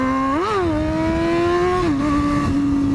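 Honda F4i sport motorcycle engine revving hard during a wheelie, a loud, close, steady high-pitched whine that climbs sharply, eases back, holds, then dips near the end, with no talk over it.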